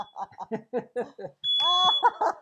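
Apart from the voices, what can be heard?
smoke alarm set off by a fog machine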